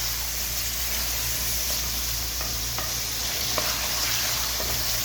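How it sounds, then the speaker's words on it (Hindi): Onions frying in cooking oil in a kadai give off a continuous, even sizzle with a few faint stirring taps, close and steady throughout, with no voices. "मैंने कढ़ाई में प्याज डाल दी है और कुकिंग ऑयल भी डाल दिया है। अब मैं प्याज को गोल्डन ब्राउन करूँगी"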